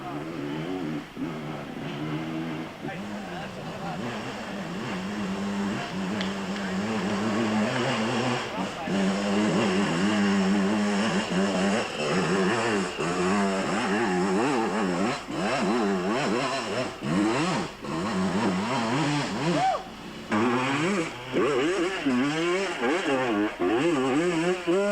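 Vintage enduro motorcycles at the 1992 International Six Day Enduro in Cessnock, Australia, rev and labor through rough terrain, engine pitch rising and falling continuously, with a voice talking over the noise.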